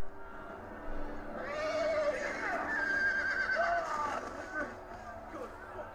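Horse whinnies in a Game of Thrones video game, a strained, rising call near at hand amid tense action, with voices talking over it.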